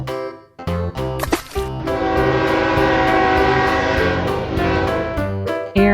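A cartoon-style toy train passes with a loud, sustained rumble and bright tonal whistle layers, preceded by a short jingle of musical notes, with no talk.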